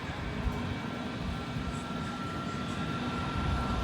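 An Aerojet Boeing 737 MAX 8 taxis to the full length of the runway at San Juan airport, its engines a steady, even rumble and whine heard from a distance with no change in power.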